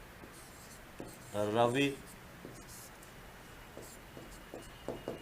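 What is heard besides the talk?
writing with pen on paper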